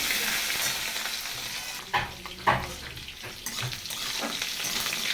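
Whole garam masala, cumin, black pepper, chilli, bay leaves, ginger and garlic fry in hot oil with a close, bright sizzle, broken by a few sharp stirring scrapes and sputters.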